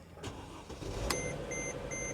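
A salvage-auction car engine cranks and catches, settling into a rumbling idle while a dashboard chime beeps several times in a regular pattern.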